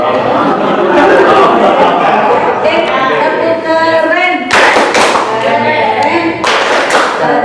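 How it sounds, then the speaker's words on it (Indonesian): Clapping from a classroom of students, rhythmic bursts of hand claps mixed with chatter and a teacher's voice, with sharp loud volleys near the middle and end. "Tepuk kalian dulu, semuanya tepuk kalian."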